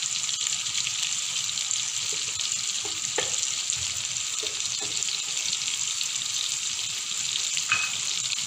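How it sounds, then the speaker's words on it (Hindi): Garlic frying in a pan until light brown, a steady close sizzle with faint stirring scrapes and occasional clinks, no talking. "अब हम इसमें लहसुन ऐड करेंगे और इसको हल्का सा ब्राउन करेंगे"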